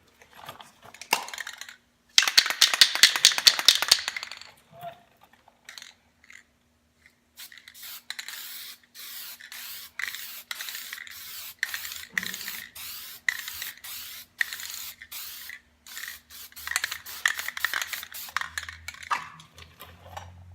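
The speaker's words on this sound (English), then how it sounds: "now that my primer is dry, we're gonna guide coat it" Spray gun laying a guide coat over dried primer on a car body during bodywork, heard as repeated short hissing bursts with brief pauses between passes, fairly close and with no talking.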